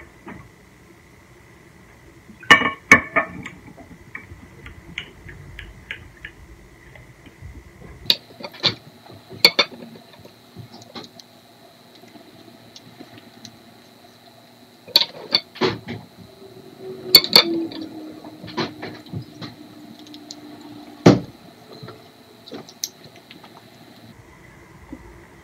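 A spoon works sandalwood powder and rose water into a paste in a small bowl, giving scattered light clinks and scrapes with quiet pauses between them, close and fairly soft.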